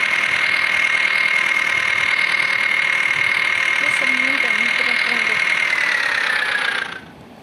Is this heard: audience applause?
no